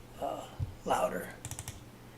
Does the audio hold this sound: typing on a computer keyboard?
yes